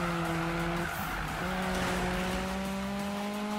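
A Toyota Corolla AE86 drifting down a mountain road in Need for Speed 2015 gives a long, continuous loud tire squeal over a steady engine drone, running uninterrupted with no talk.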